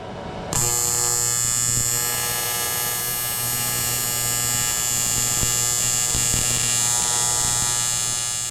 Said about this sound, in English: Now I'm going to try to weld it all back together.